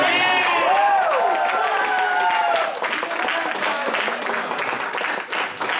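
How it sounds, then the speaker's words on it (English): A convention audience at a game-show event claps and cheers in a steady, dense burst of applause, with excited voices shouting over it throughout. "give a round of applause"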